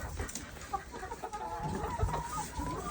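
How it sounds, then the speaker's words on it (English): A backyard chicken flock near a duck hut on a winter morning, several hens clucking in soft overlapping calls with low background rustle. "This is my chicken flock"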